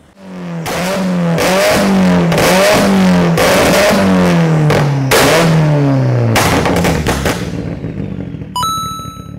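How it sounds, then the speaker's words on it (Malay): Proton Satria Neo with a custom four-system exhaust and 3-inch straight pipe, revved hard in a series of about eight loud, rising blips that drop back between each pulse, ending with a short chime. "Exhaust 4 system custom, straight pipe 3 inci. Inilah bunyi dia."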